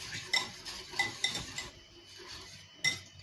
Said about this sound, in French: Le fouet. On va mélanger, mélanger et mélanger.